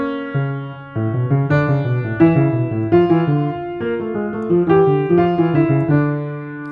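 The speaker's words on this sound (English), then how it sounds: "if I were to play the subject of the Art of Fugue at the same time as the subject of this canon at the 12th" Piano plays the subject of Bach's Art of Fugue together with the subject of its canon at the twelfth, two melodic lines moving in steady, sustained notes at a clear, full volume.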